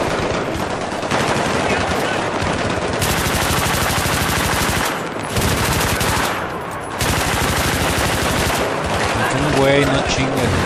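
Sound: light machine gun fire from the video game Battlefield 3

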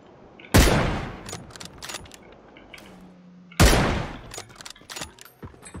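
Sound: sniper rifle shot in video game PUBG

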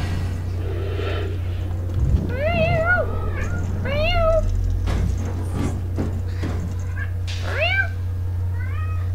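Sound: cat meowing

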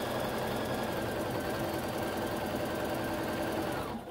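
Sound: sewing machine straight stitching curved apron edges

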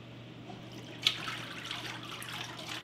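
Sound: paper pulp drained from a beater and poured into vats

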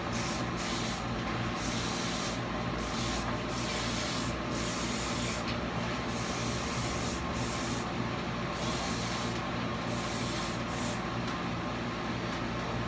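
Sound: hairspray being sprayed onto hair

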